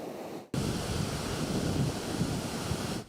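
Hurricane Erin's surf pounds the Grand Strand beach at Myrtle Beach, a dense, loud, unbroken roar of crashing waves and gusting wind that cuts in abruptly after a brief quiet moment.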